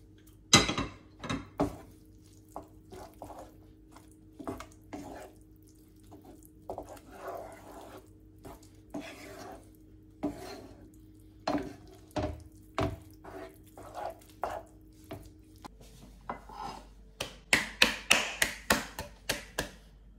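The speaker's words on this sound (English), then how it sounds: "Chop parsley." Parsley being chopped on a cutting board with a knife while making Italian seafood risotto, heard as a run of sharp, irregular close taps that speed into a fast rhythmic burst toward the end, with no talking.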